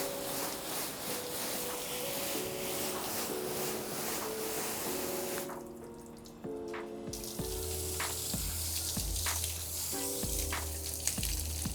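Car being rinsed with a water spray: continuous hissing spray, interrupted briefly by a pause, then resuming with dull knocking and thumping nearby, moderately quiet throughout.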